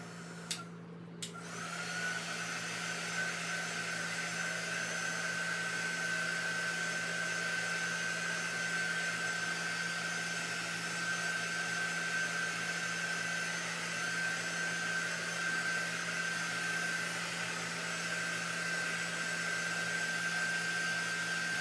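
A hair dryer or heat tool runs as a steady, close whine and hum for about twenty seconds while it dries chalk paste on a craft piece, with a brief clatter at the start and no talking.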